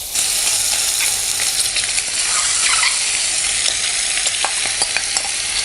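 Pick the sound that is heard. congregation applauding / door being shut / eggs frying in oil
eggs frying in oil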